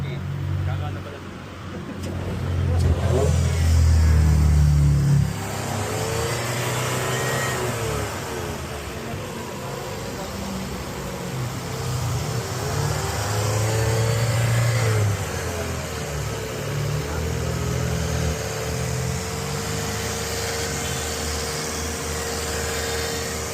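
A 2011 Ford Fiesta with a dead radiator fan overheats while its engine is revved in repeated long swells, rising and holding before settling back to idle, with people talking nearby during the revs.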